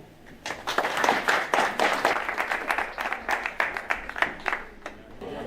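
An audience at a music-therapy event in Le Coudray-Montceaux applauds steadily, dense clapping with a few sharper individual claps standing out as it carries on.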